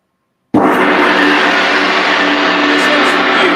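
A gong is struck once with a sudden, very loud crash, and its dense, roaring metallic wash sustains at full strength without fading.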